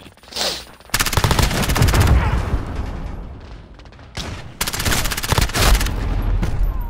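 Rapid automatic gunfire in Call of Duty: Modern Warfare, loud sustained bursts with a brief pause and short gaps between strings of shots, dense and close in the game mix.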